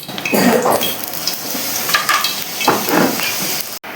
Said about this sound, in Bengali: ডাল কড়াইয়ের মধ্যে এখন আমি সর্ষের তেল দিয়ে দেবো।